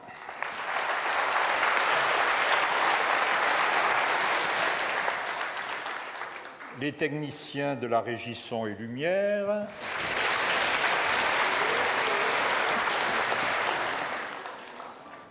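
A large crowd at a Catholic faith festival applauds loudly and continuously, fading briefly while someone speaks over a microphone, then the applause swells again and carries on.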